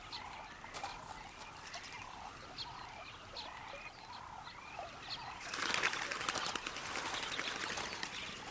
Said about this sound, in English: Doves visit in smaller groups.